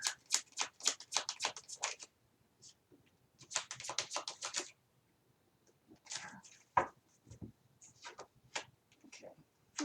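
Tarot cards being shuffled by hand in bursts of rapid crisp riffling flicks, close and fairly quiet, with pauses between bursts and a faint thump near the end.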